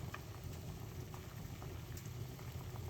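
Tea boiling in a pot, a steady low rumbling bubble with faint patter, continuous and quiet, heard close with no talking.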